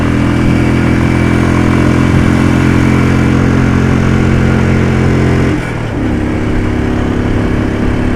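A Royal Enfield Desert Storm motorcycle accelerates on a road test ride, its single steady engine drone loud and close, with a drop in pitch near the end as it shifts gear.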